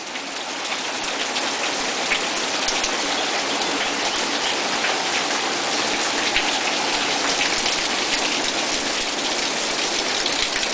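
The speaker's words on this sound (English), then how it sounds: "It's really raining outside. You can really tell." Heavy rain pouring down outside, a dense, constant hiss of drops hitting surfaces that stays loud and even throughout, with no voices over it.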